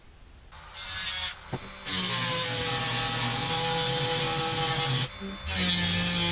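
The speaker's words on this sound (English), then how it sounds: "Now I'm going to use my Dremel with my cutting tool." A Dremel rotary tool with a cutting wheel whines at high pitch in close, loud bursts, spinning up, cutting steadily, briefly dropping out, then resuming, with no talk.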